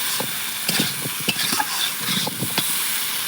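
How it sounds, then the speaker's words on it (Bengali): A spoon stirs egg and pointed gourd curry in an uncovered pan, with scraping strokes coming in irregular bursts over a soft continuous sizzle, close and fairly quiet, with no talking. "দেখো এবার ঢাকনাটা খুলে আমি এবার একটু নাড়াচাড়া দেব।"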